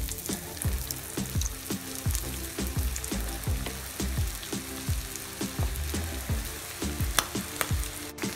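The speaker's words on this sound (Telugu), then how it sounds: "రింగ్స్ని ఒక్కొక్కటిగా వేసి ఫ్రై" Onion rings coated in breadcrumbs deep frying in hot oil, a steady dense sizzle and crackle with repeated low thumps and bubbling pops, continuous and close with no voices.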